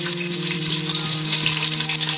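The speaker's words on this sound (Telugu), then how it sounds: "ఇవి చిట్పట్ అన్నప్పుడు మనం ఆనియన్ వేసేసుకుందాం." Seasoning crackling and sizzling in hot oil in a pan before onions go in, a loud close continuous fry with fine popping and a steady hum beneath.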